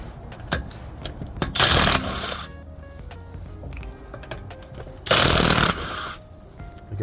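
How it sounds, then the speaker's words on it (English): An impact gun cracks loose the 21mm wheel nuts on a 2017 Nissan Pulsar in two loud, harsh bursts about half a second long each. Scattered clicks and rattles from the workshop fill the gap between them. "I'm going to use my gun on this just to crack these loose."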